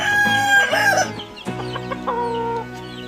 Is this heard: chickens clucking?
yes